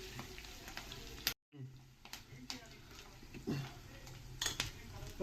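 Ingredients for lemon rice fry in a pan with a quiet sizzle, intermittent utensil clinks and scrapes against the metal, and a voice talking over it, after a brief cut.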